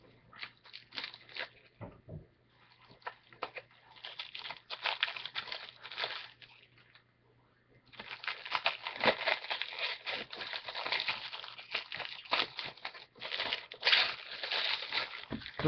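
Crinkly plastic shrink-wrap seal being torn and peeled off a sealed 1990s VHS tape, close and loud, in long bursts of crackling with a brief pause midway.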